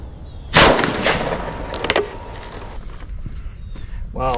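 An AK-47 rifle fires outdoors: one loud sharp shot, then a few fainter cracks, with a high steady insect drone running behind them.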